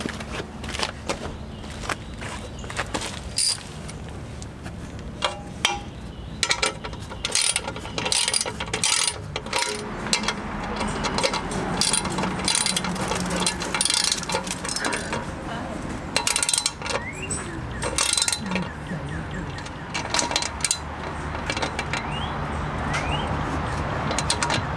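Tightening the front skid plate bolts on a Kawasaki Versys X 300 motorcycle, with repeated close ratchet clicks in bursts over mechanical clatter and occasional handling noises.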